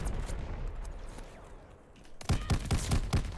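Shotgun fire in Call of Duty: Vanguard with an Einhorn Revolving shotgun, first a scattered stretch of game noise, then a rapid string of five or six loud, close, evenly spaced blasts.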